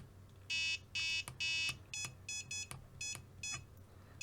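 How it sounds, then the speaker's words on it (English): Flysky FS-G7P radio transmitter voltage alarm sounding a close, loud series of electronic beeps, first three longer bursts, then shorter paired and single beeps in an uneven rhythm, with no talk. "then you've got an alarm type to warn you when voltage is high."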